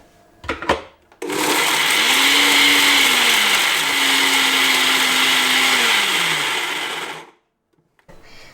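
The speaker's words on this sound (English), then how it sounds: "I'm just going to put handfuls, a little bit, okay, a little bit at a time in this mixer, and then start grinding." A kitchen mixer grinder whirs loudly as it grinds whole garam masala spices, running in one steady, high-pitched burst of about six seconds that rises and dips in pitch before it stops.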